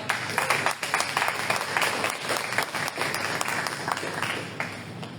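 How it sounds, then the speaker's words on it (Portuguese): Congregation at a church service applauding, sustained crowd clapping throughout at moderate level, with scattered voices underneath. "se possível, você aplaude o Senhor."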